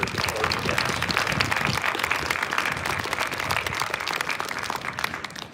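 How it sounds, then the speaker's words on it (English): Applause from a crowd greeting corps cadets at a Georgia Military College academic honors parade, a dense steady clapping that fills the whole stretch without pause. "Let's have a big round of applause for the 143rd Corps Cadets."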